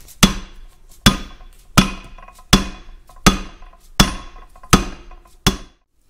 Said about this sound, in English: I'm just driving it in with this mallet. It taps in fairly easily.